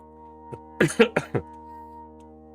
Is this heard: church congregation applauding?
no